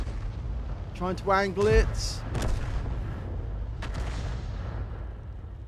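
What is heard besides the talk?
tank gun firing and shell impact explosion in a video game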